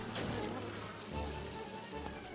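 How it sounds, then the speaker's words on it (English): Cartoon flash bees from a My Little Pony episode swarm with a continuous buzzing drone that holds steady and close for the whole moment, with no voices over it. "Flash bees!"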